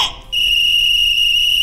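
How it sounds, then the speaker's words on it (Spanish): A cartoon character blows a referee whistle in an animated football episode, producing one sharp, sustained, piercing tone held for over a second, close and loud with no talk. "Es Noodle soplando su silbato y agarrando el balón"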